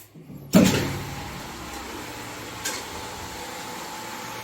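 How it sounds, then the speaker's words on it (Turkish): A swimming pool filter pump motor starts with a sudden onset, then settles into a steady, moderately loud mechanical hum and whir that runs evenly throughout, with one brief knock partway through. "Motoru çalıştırıyoruz tekrardan."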